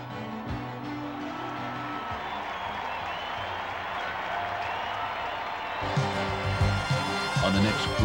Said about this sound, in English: the hostile Illinois crowd yelps for another Buckeye scalp